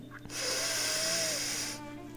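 A single deep, drawn-out inhalation during a breathing exercise, a close, airy hiss that rises quickly and holds for over a second before fading.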